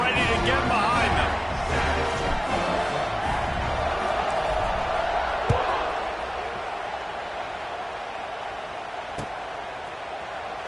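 A stadium crowd roars steadily in an NCAA 26 college football video game before a kickoff, a loud continuous wash of cheering that eases slightly partway through, with a commentator talking over it.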